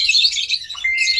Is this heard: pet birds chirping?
yes